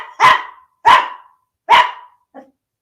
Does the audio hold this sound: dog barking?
yes